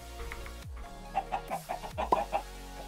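Chickens cluck in the modded Minecraft pack Sky Factory 3 with Pam's HarvestCraft, a burst of short, close clucks in an uneven rhythm over a steady low game background hum.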